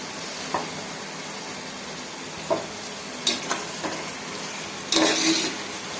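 Half a kilo of prawns sautés with masala in a pan, giving a steady close sizzle. A few sharp scrapes and clinks of stirring break through it, with a louder burst of activity near the end.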